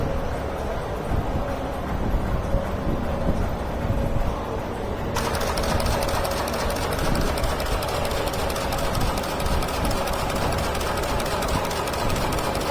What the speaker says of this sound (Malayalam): Wire stitching machine.